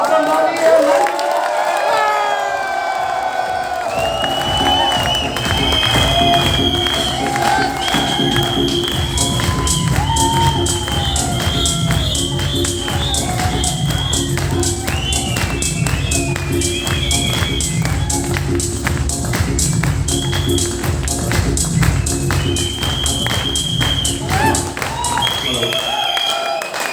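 A standing crowd at a Vestige Success Summit in Goa applauds and cheers to welcome a guest, with dense sustained clapping and crowd noise under loud stage music, and brief voices near the start.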